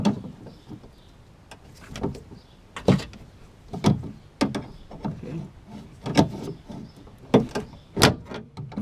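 Screwdriver prying and clicking at the door latch of a Toyota Tundra rear suicide door, a series of sharp plastic and metal snaps and scrapes at irregular intervals, close up with no talking.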